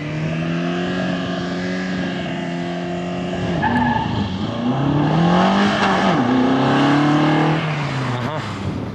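A Ford Escort rally car launches hard, its engine revving up through rising pitch sweeps while tires skid and squeal, loud and close throughout with a steady broadband roar.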